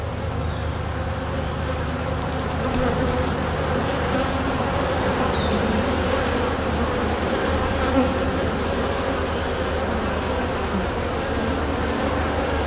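Honey bees buzz steadily at a hive while comb is being removed, a dense, continuous drone of many wings at moderate loudness that holds unchanged throughout, with no talking.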